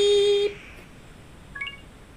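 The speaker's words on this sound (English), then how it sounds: "Beep." A steady electronic beep tone holds for about half a second, then a few short, quieter bleeps chirp near the end over faint background hiss.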